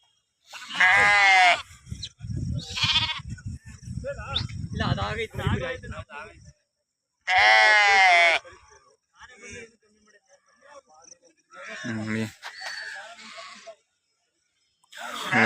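Sheep and lambs at a lamb livestock market in Magadi give loud, close bleats in several bursts, with people talking between and around the calls.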